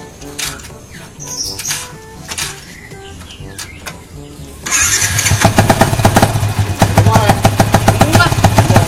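Light clatter and faint voices give way to an engine sputtering into life and revving roughly, loud and close, like a motorcycle starting.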